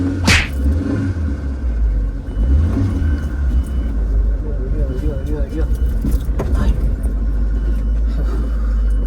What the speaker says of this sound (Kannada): ಇಷ್ಟೇ ರಿವರ್ಸ್ ಗಾಡಿನ ಹಿಂದೆ ಹಾಕೋಬೇಕು